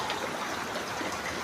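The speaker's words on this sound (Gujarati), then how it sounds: "ચારે પૂરા વરસાદ ચાલુ છે" Steady rain pours down all around outdoors, a dense, even hiss with a faint watery trickle, constant and fairly close, with no voices.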